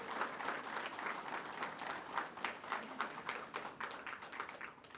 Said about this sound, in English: Please let us give a round of applause for this wonderful example,